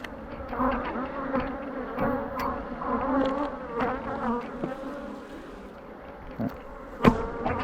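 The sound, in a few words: honeybees buzzing during a hive inspection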